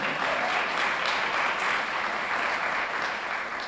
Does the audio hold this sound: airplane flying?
no